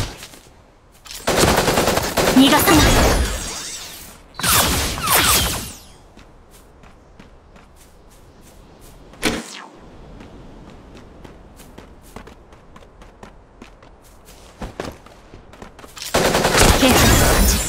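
Automatic gunfire in the mecha battle game Super Mecha Champions comes in loud rapid bursts separated by quieter stretches of footsteps and small impacts, with a single sharp shot midway and a brief line of spoken dialogue.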